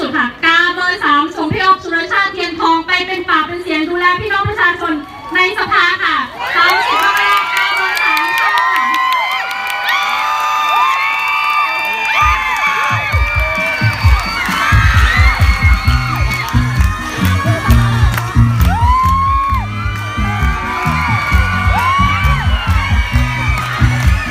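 A large crowd at a Thai election rally screams and cheers loudly and continuously, shrill whoops and shrieks rising into a dense roar, with music-like tones early on.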